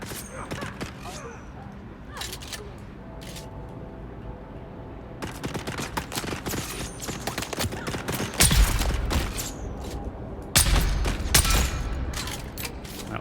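Gunfire in Dune Awakening, with sharp scattered shots and rattling bursts over mechanical creaks and game ambience; the volleys are sparse at first and then grow denser and louder.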